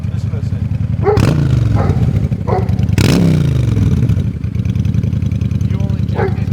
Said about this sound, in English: The exhaust note is excellent on the bike. It has a real nice sound to it.